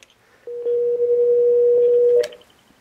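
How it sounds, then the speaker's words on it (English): An office desk phone gives a secondary dial tone after the conference soft key is pressed: a steady, clear single-pitch tone lasting under two seconds, followed by a brief click. "Here's secondary dial tone."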